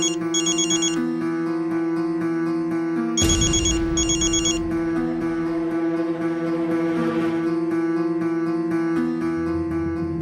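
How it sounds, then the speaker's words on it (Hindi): A phone ringtone plays a repeating melodic pattern, loud and close, cycling steadily over and over with no talking. "समीर, इतनी रात को फोन क्यों किया?"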